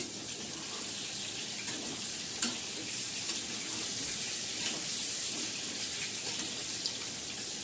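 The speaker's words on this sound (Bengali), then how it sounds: "এটাকে ভাজছি নুন হলুদ দিয়ে।" Bottle gourd peel fries in oil with salt and turmeric, giving a steady close sizzle with faint stirring clicks and one sharp pop partway through.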